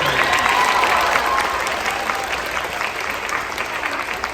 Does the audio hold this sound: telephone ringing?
no